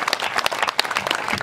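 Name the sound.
audience applause at Hindi poetry show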